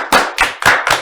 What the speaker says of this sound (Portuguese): Uau, uma salva de palmas.